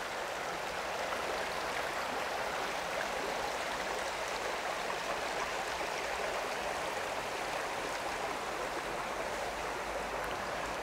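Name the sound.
stream flowing beside a hiking trail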